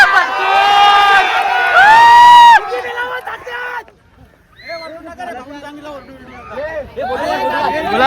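A crowd at a bullock cart race erupts in loud shouting and whistling cheers, dipping briefly before rising again into excited yelling voices close by.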